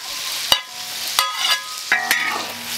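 Chili peppers sizzle as they are stir-fried with eel and soy sauce in a wok, with a few sharp scrapes of the spatula over a continuous hiss of frying.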